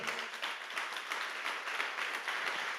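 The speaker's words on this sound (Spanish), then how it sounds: "Denle un fuerte aplauso al Señor" Congregation applause fills a church service, a steady dense wash of many hands clapping throughout, fairly distant and even, with no talking over it.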